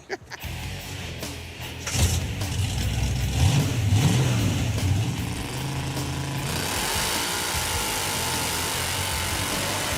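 A 700-hp Hemi-powered Gremlin on a Model A chassis revs hard while doing donuts, its engine roaring loud and close with rising and falling pitch sweeps, then settling into a sustained heavy drone.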